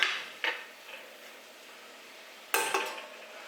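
A spoon stirs a filling for smoked stuffed peppers in a pot on the stovetop, giving two short scraping bursts separated by a quiet pause, close and fairly soft with no talking.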